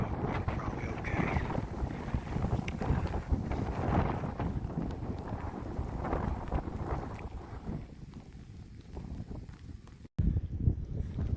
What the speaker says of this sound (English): It's got kind of windy